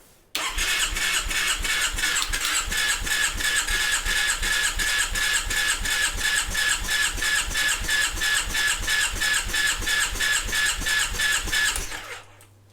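Triumph Bonneville engine cranked on the starter at wide open throttle with ignition on during a compression test: loud, steady rhythmic churning pulses for about eleven seconds, then stopping, with no talk.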